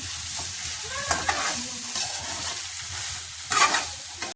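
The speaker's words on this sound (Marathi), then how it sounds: "व्यवस्थित भाजून घेतलेलं आहे बघा मसाल्यामध्ये." Okra fries in masala in a pan with a close, continuous sizzle while a spoon stirs it in scraping strokes, ending in a louder burst of hissing near the end.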